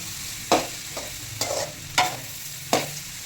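Cooked rice being stirred into fried seasoning in a pan for lemon rice, four or five distinct scraping strokes of a spoon against the pan over a faint steady sizzle, close and unaccompanied by talk.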